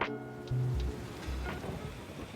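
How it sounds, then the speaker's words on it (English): Steady rain falls on a Kyoto bonsai garden with Japanese maples and shallow stone basins, a soft, even wash of patter with no voices. "The rain itself leaves its own unmistakable mark upon the garden."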